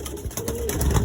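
A pigeon in a racing loft gives a short low coo, a brief throaty burble close by over faint background rustle.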